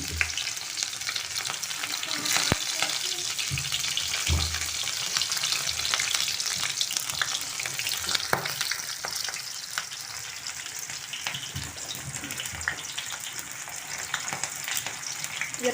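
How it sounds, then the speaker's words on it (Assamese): Chopped onions frying in hot oil for an egg curry, a dense continuous sizzle with occasional spatula scrapes and taps, steady and close, no voices. "ইয়াতে এতিয়া মই দি দিছোঁ পিঁয়াজখিনি কাটি থোৱা।"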